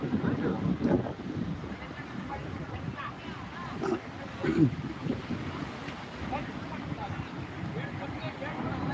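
Sea at Om Beach in Gokarna, with waves and wind rumbling steadily and faint boats passing at a distance, all at low level.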